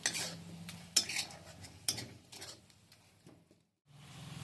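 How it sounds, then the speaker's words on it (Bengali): A spoon scrapes and clinks against a pan while a thick ginger candy mixture is stirred, with a few sharp metallic taps and softer sticky scraping, close and intermittent. "আর এটা অনবরত নাড়তে হবে ছেড়ে দিয়ে চলে যাওয়া যাবে না"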